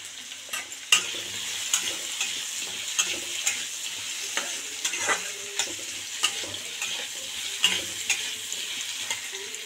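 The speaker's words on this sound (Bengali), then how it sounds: "এখন ভাজা ভাজা হচ্ছে" Whole spices, including cumin and whole garam masala, fry steadily in a hot pan, with a continuous sizzle broken by regular scraping and tapping from stirring, close and fairly quiet, with no voices.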